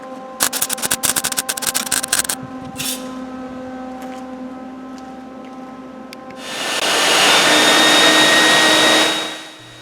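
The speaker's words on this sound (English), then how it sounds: "clean the shit out of the inside of the frame by sticking the vacuum at various holes" A vacuum cleaner poked into holes along the inside of a VW diesel Spitfire car frame during restoration. A loud whooshing roar builds and holds for a few seconds, then cuts off, after a burst of rapid clattering taps.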